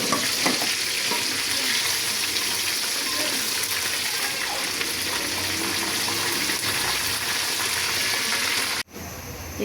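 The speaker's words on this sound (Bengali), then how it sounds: "এই যে মুরগির মাংসগুলা বেজে তুলতেছি।" Pieces of chicken meat for a roast fry in a wok, a loud steady sizzle with stirring and scraping that runs almost unbroken before cutting off abruptly near the end.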